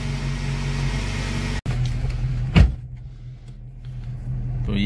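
A Suzuki Cultus engine idles steadily after a cold start, its low hum running close and constant, broken by a brief cutout and a sharp knock midway before the idle settles.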